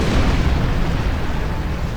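Charges detonate in the Star Trek Online video game, producing a loud, sustained rumbling blast that fills the whole moment with dense low roar and no speech.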